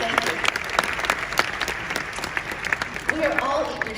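An audience at a Cirque du Soleil preview presentation at Walt Disney World claps steadily in a moderate round of applause, with voices faintly mixed in.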